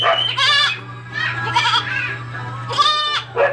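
A goat bleats loudly several times in wavering, nasal cries with short pauses between them, over a steady low hum.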